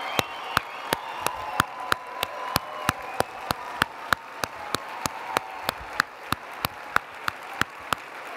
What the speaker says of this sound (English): judges, let's all give them a big round of applause